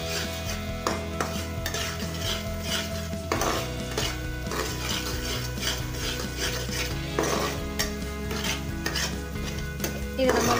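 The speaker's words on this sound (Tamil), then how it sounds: "இதில் நல்லா மிக்ஸ் பண்ணி விட்டுருங்க." Rava (semolina) is stirred in a metal pan for rava kesari, with steady scraping and clinking of a spoon against the pan and a soft sizzle underneath, continuous and close with no talking.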